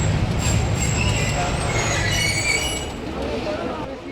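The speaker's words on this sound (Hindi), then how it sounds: "ये आ चुकी है finally 40 down Jafar express Peshawar और कोयटा के दरमियान चलने वाली ओकाड़ा रेलवे स्टेशन पर" The 40 Down Jaffar Express, running between Peshawar and Quetta, rolls loudly into Okara railway station with a steady rumble of wheels and a thin metallic squeal, very close and continuous.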